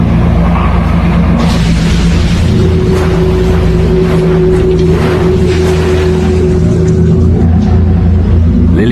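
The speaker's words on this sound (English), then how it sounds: "the 333 bus is picking its way through the congested streets" The 333 city bus crawls through congested streets, its engine a loud, continuous low drone with a steady tonal hum, surrounded by dense traffic noise close by and no one speaking.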